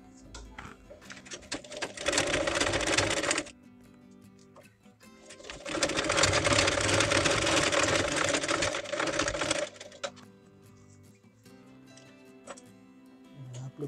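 A sewing machine stitches a zip onto a dress in two rapid, buzzing bursts of a few seconds each, separated and followed by quieter gaps with faint clicks and birds cooing in the background.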